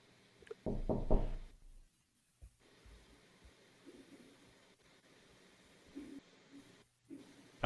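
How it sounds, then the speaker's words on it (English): A few firm knocks on a door in an old radio police drama, loud and close, followed by a quiet room with faint rustling. "I was pausing for more knocking"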